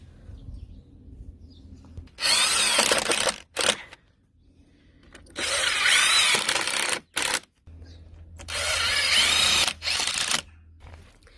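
Power tool driving screws into a wooden planter plank, three separate bursts of loud whirring a few seconds apart, each broken by brief stops, with quiet gaps between them.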